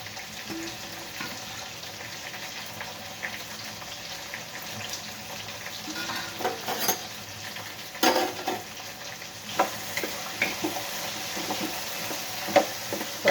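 Vegetables for a bitter gourd kurma fry in a pan with a continuous soft sizzle, and stirring scrapes grow more frequent and louder in the second half.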